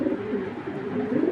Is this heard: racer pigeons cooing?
yes